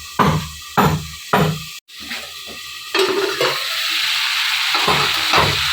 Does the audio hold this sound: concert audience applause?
no